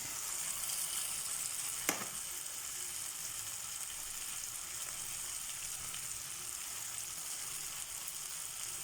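Ridge gourd curry frying in a pan, a steady soft sizzle running throughout, with a single brief tap near the start as spice powder goes in.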